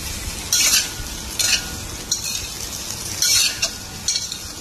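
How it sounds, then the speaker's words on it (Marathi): Rawa besan idlis fry in a spiced tempering, stirred with repeated scraping strokes of a spoon against the pan over a constant sizzle. "आपण पाहू शकता आपल्या ह्या तडक्यामध्ये ह्या आपल्या इडल्या किती सुंदर पद्धतीने फ्राय होत आहेत।"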